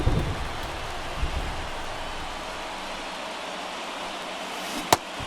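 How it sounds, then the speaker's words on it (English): Steady rain hiss falls across a baseball video game ballpark, a continuous broadband wash with no speech, broken near the end by one sharp, loud crack. "This rain is not letting up."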